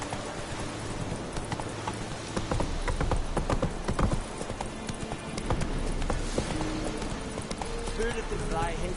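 Horse hooves clip-clop steadily in a galloping rhythm through the Witcher 3 video game, continuous and fairly close, with game sounds and a voice talking over the hoofbeats.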